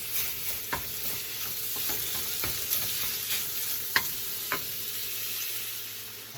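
Sausage sizzles steadily in a pan for country gravy while a utensil breaks it up, sharp scrapes and taps cutting through the constant hiss at irregular intervals.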